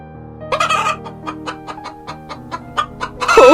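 A cartoon chicken in a Bengali animated story clucks in a quick series of sharp, close pulses, ending in a louder, rougher squawk.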